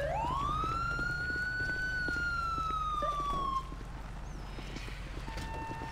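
A police car siren in a roleplay video game rises in a single long wail and holds steady for about three and a half seconds before cutting off, leaving a low engine hum.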